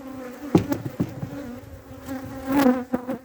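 Honeybees buzz densely around an open honey-producing hive being smoked, a close, sustained hum swelling louder toward the end with brief sharper buzzes.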